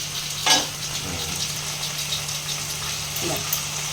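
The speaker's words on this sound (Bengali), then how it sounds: "ঢাকনাটা তুলে পরে নাড়াচাড়া করতে হবে মাঝে মাঝে" Ridge gourd cooking in a pan gives a soft steady sizzle, with a few stirring clinks and scrapes up close and a low steady hum underneath.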